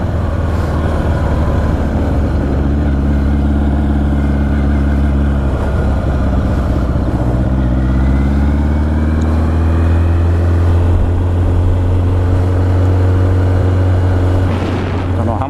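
A motorcycle on a test ride, recorded from the rider's helmet with the visor open: a loud, steady engine drone with rising and falling pitch as it shifts, mixed with rushing wind and road noise, close and constant.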